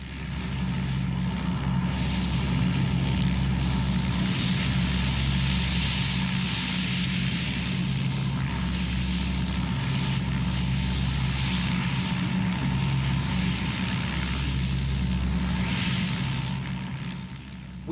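A propeller rescue plane at an airport during a wartime evacuation, its engines droning steadily and loudly throughout with a constant low hum, no voices.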